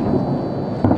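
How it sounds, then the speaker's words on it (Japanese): Anti-aircraft gunfire over Baghdad sounds as a dull, distant rumble with a heavier thump near the end, brief and muffled, with no talk. "一度収まった対空砲がまた始まっております"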